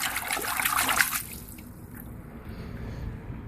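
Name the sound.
baking soda water poured from bucket onto car battery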